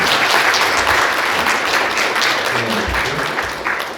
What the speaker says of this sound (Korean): 우리 땅투 선생님께 감사의 박수를 드리겠습니다